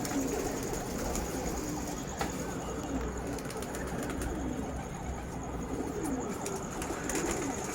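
Army pigeons kept in a loft coo steadily in a dense, continuous murmur of overlapping calls, fairly close and constant throughout.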